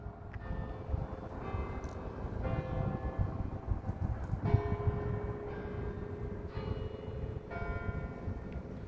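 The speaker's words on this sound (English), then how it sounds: "that is the 11:30 chimes here at St. Stephen's" Church bells at St. Stephen Presbyterian Church in Fort Worth ring the 11:30 chimes, a steady series of resonant struck tones, each ringing on while the next sounds, moderately distant and alone.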